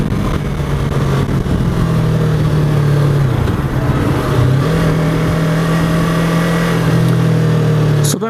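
A Yamaha R3 motorcycle engine drones nearby, its pitch rising and dipping in a few mild revs, steady and moderately loud with no voices.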